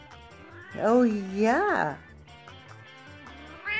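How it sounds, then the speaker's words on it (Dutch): A cat meows twice up close, two long rising-and-falling cries in quick succession, with a person speaking briefly at the end. "zit er ook eentje te miauwen"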